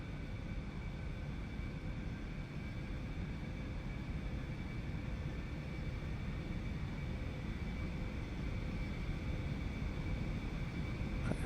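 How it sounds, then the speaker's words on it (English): Jet engines of an Aerobask Eclipse 550 in a flight simulator game give a steady, even hum and whine that holds unchanged throughout, with no talking. "the engine sounds on this plane are pretty decent"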